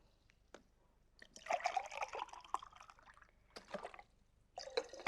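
Water poured from a 2-liter bottle into cups: short gurgling, trickling pours separated by near-silent gaps, close and fairly quiet.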